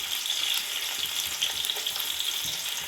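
Roughly chopped onions, three of them, frying in a pan to brown, making a steady close sizzling hiss with no talk.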